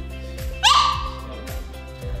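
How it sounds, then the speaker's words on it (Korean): A bichon dog gives a single sharp, fairly loud bark, with faint yips before and after over low background hum. "바깥에 낯선 발소리만 들리면 끊임없이 짖는 소리가 나는데"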